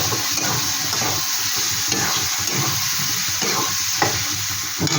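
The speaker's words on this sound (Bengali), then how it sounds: "এবার টমেটোটা দিয়ে দিচ্ছি।" Tomato goes into spices frying in a pan for a coconut chicken curry, giving a steady sizzle with rhythmic stirring and scraping that recurs in short bursts throughout.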